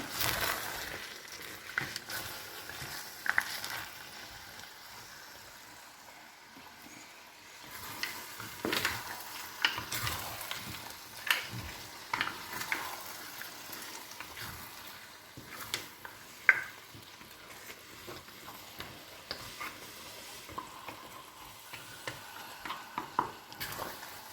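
Mussels being stirred in a paella pan while they cook, giving a soft ongoing sizzle with scattered scraping and clicking of the spoon against the pan, close and fairly quiet.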